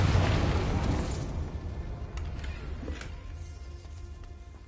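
A blasting-spell explosion in a video game: a loud broadband burst at the start, rumbling and slowly fading over several seconds with a few smaller crackles along the way.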